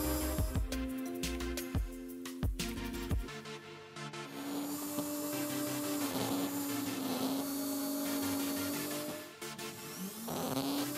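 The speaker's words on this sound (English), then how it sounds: "After that I will scrape all gasket from the edges, I use rotary tool with soft brush." A rotary tool with a soft brush whirs with a steady buzzing tone as it scrapes old gasket from the edges of an EGR valve on a Volvo 2.0 D4 diesel, close by, with some scraping and clatter early on.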